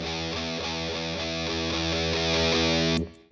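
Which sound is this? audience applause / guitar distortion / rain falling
guitar distortion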